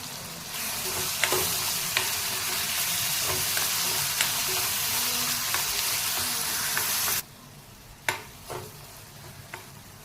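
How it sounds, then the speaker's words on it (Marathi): Ground onion-tomato paste sautés in a pan with a loud, steady hiss and faint stirring ticks. The sizzle cuts off abruptly near the end, leaving a few sharp clinks of utensils. "आपण जे वाटलेलं मिश्रण आहे ते आता परतून घेणार आहे"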